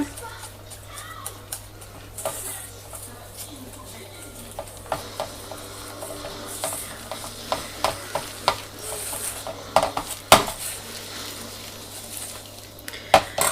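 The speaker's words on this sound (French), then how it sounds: "Donc c'est 100 g de farine, 2 cuillères à café de levure. Je remélange." A batter of flour and baking powder is stirred in a bowl with a utensil, giving a series of light clinks and scrapes that grow sharper later on, close up over a low steady hum.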